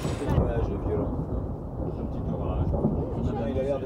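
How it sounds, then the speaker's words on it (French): Small thunderstorm with a continuous low rumble of thunder and steady rain-like hiss, moderately loud and sustained, with a brief sharp noise at the start. "Un petit orage."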